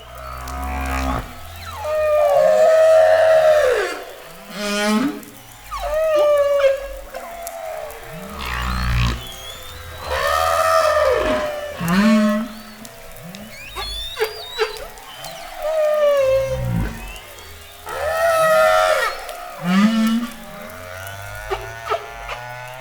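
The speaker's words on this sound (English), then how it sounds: "humpback whale song, but be careful. It has to be loud because it's extremely loud if you're within 100 meters of these animals." Humpback whale song: loud moaning and whooping calls rising and falling in repeated phrases, with sweeping tones and grunts separated by short pauses, close and clear with no talking.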